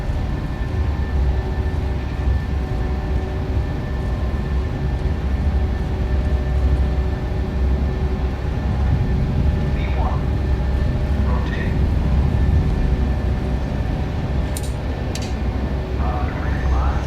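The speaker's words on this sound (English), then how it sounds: "Takeoff thrust set, indications normal." A Boeing 737-800's jet engines hold steady takeoff thrust on a flight from Edinburgh to Rome Ciampino, a loud, constant broadband roar with a thin steady whine, heard from inside the aircraft and continuing for the whole stretch.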